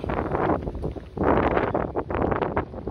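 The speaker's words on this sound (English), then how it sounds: "It's also windy today." Wind gusting across a microphone on a hillside ridge trail, with steady broadband buffeting that surges and eases in long gusts and nothing else audible.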